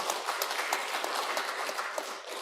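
Congregation applause at a regular Sunday service of the Won Buddhist Gangnam temple, honoring a group of members. Steady, dense clapping from many hands fills the hall without a break.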